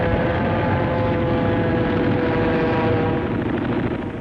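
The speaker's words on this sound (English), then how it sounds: "the U.S. ships offshore were attacked in a heavy air raid." Aircraft engines drone loud and continuous during a heavy air raid on U.S. ships offshore at Iwo Jima, a dense roar that holds steady before easing slightly at the end.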